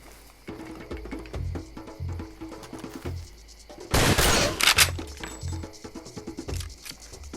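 Rapid bursts from a mounted gun in the Far Cry 2 video game, repeated sharp shots in a quick rhythm with a loud, dense volley midway, fairly close and heard without talk.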